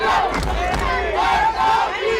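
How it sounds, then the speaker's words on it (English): Crowd cheering and shouting at a football game between the Railroads and the Rams, a steady roar of voices with rising whoops and yells, close and loud throughout. "This crowd's getting into it."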